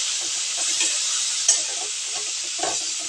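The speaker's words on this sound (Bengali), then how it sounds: "ডাঁটা দিয়ে একটু আঁচে আমি নাড়াচাড়া করে নেব।" Yardlong beans and their stems stir-fry in a hot pan with onion, a loud constant sizzle with soft scraping stirs and one or two sharper clinks of the utensil.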